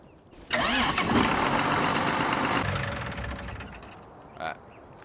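An older tractor engine in the video game Farming Simulator 19 cranks and catches with a loud burst, runs rough and strong for a couple of seconds, then settles into a quieter idle and fades, with a small clunk near the end.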